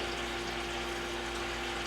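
Beer, a barrel-aged imperial stout, pours from a bottle into a glass with a continuous close gurgling, splashing flow that holds steady throughout without talk.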